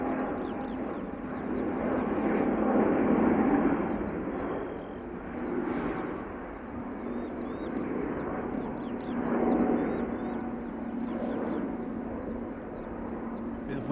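A Delta Airbus A350-900 passing by in side view, a broad steady jet roar that swells and eases in slow waves over about fourteen seconds, with faint chirping birds high above.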